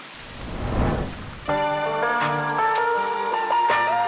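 Rain falls steadily as a sound effect in a pop song's arrangement, a soft wash of patter that swells briefly before piano and sustained melodic tones enter and carry on over it.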